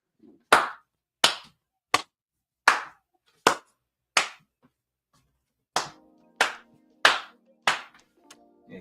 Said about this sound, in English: I gotta stand up and get this man a round of applause